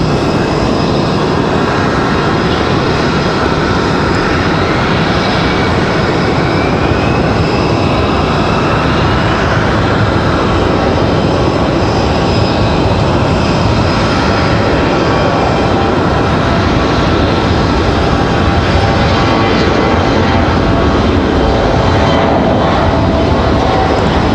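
A jet climbs away from the runway at Raleigh-Durham International Airport, its engine roar loud, broad and steady for the whole stretch, with no voices over it.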